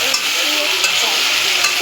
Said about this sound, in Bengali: চলছে আমাদের কষানো পর্ব। সজনের ডাঁটা,